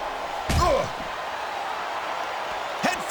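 A wrestler slams head first into a steel security barricade in a WWE SmackDown video game, a sharp impact with metallic ringing over crowd noise, followed by a second lighter hit near the end.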